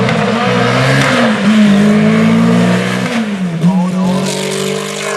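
Engine of a 1985 Peugeot 205 T16 rally car revving, a steady loud drone with pitch rising and dipping, close and continuous throughout.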